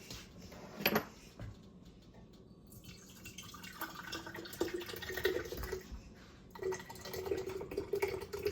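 Homemade organic tomato sauce is poured into canning jars, with close wet glugging and liquid filling sounds that grow in bursts, plus a clink or two of glass and utensils.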